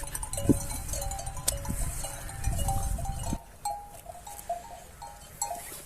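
A flock of sheep on a Turkish village farm, with bleats and animal movement up close, cowbell-like clinks ringing repeatedly throughout and a rumbling bustle that drops away halfway through.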